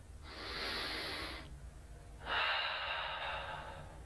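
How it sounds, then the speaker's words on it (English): Two slow, deep breaths during a yoga flow, a long inhale-like rush followed by a pause and a second fuller breath, close and soft with no talk. "One more full round of breath."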